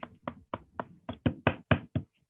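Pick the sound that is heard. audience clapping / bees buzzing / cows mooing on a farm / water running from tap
audience clapping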